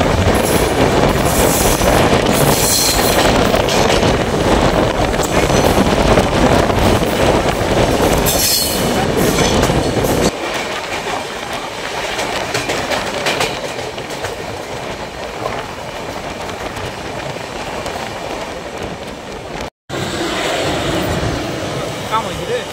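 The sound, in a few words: Saraighat Express train running on rails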